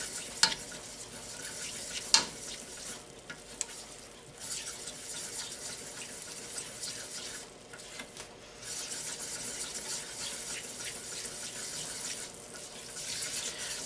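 Salted caramel glaze bubbles in a pan while a spoon stirs and scrapes through it, a steady close sizzling hiss with a few sharp clinks.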